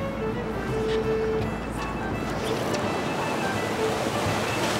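Ocean swell surging and surf breaking on rocks along a fishing shoreline, a steady broadband wash that stays loud and continuous, with no voices.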